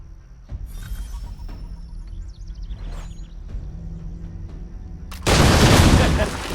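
A door in Assassin's Creed III bursts open in a single loud, broad explosion near the end, following a quieter stretch of game ambience and voices.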